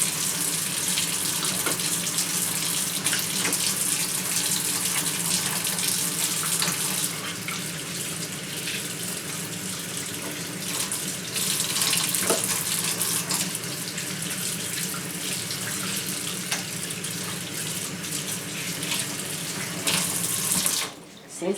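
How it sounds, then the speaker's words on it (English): A tap runs steadily while hands are washed under it, a loud continuous rush of water with small shifts in tone as the hands move through the stream, running without a break. "Since I use the water to wash my hand, I could say that the water is at room temperature."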